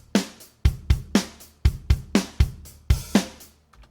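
Programmed drum beat with a kick and sharp hits in a steady groove, an open hi-hat choked short to accent a beat, played loud and close with no voices.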